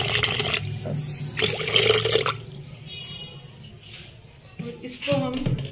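Water poured into a bowl of tamarind being soaked for cooking, a steady splashing stream with a voice talking over it.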